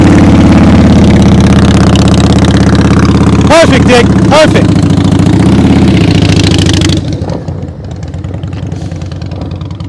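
A motorcycle engine idles and putters during slow-speed riding practice, loud and steady, with a voice calling out over it and a few sharp whistle-like tones partway through before the engine note drops lower.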